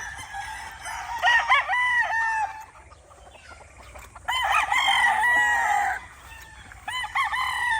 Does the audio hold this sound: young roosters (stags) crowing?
yes